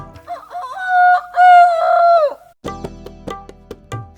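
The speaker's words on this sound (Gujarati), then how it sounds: "સવાર થઈ ગઈ, બોલ્યું કોણ, બોલ્યું કોણ? કુકડો કુકડો" A rooster's drawn-out crow rings loudly and clearly, then gives way to a few short clucking and scratching sounds.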